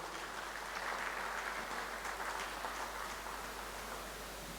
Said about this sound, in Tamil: அவள் எல்லாருக்கும் கைத்தட்டி ஒரு வரவேற்க கொடுக்கணும்.